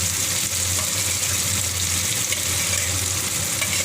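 Chopped banana flower and finely cut onions frying in a pan, a continuous bright sizzle with faint stirring scrapes, steady and close with no talking.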